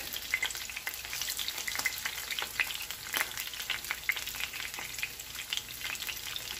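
Breaded pork schnitzel made with pork loin, cheese and parsley flakes frying in oil over low heat, giving a steady soft sizzle with crackling pops and faint stirring, no voices.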